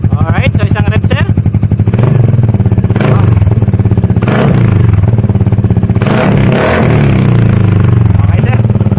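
A Kymco Exciting 400 scooter with a MIVV titanium slip-on muffler and the silencer removed gives a deep, bassy engine roar with repeated loud throttle blips and revs. It sounds close, harsh and clattery, with a voice speaking over it.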